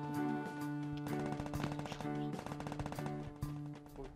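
Rapid automatic gunfire in the Free Fire video game, dense bursts of rattling shots with brief pauses over a steady tonal game backdrop, moderately loud.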